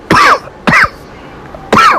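Three harsh, close coughs, two together and one after a short pause, with no talking.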